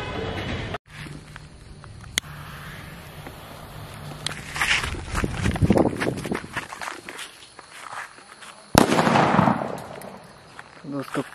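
A loud, sharp Diwali firecracker blast bursts out near the end, following scattered crackles, thuds and shuffling at close range, with a smaller pop earlier on.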